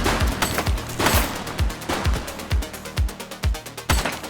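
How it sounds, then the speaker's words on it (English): An enemy shoots during gameplay in The Precinct, a police game. Repeated loud shots crack out at a fairly steady, quick rhythm, each one close and punchy with a short decay. "He's shooting!"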